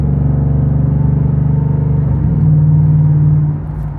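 A Coyote V8 with its muffler deleted drones loudly and steadily while cruising under load at about 3,000 RPM, and its pitch shifts after a downshift partway through. No voices are heard.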